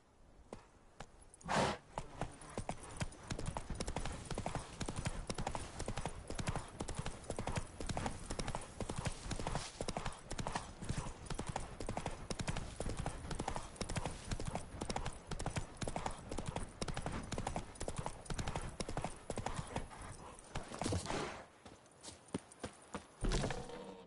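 Horse hooves clip-clopping steadily in The Witcher 3 on PS5, a continuous close, even rhythm of hoofbeats on hard ground running throughout, with a brief pause near the end.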